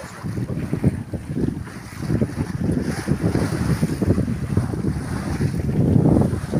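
Sea waves of about 1.5 metres roll and wash against a sailboat off Ibiza while wind buffets the microphone. The rush of water and the gusty roar stay steady and loud, with no voices.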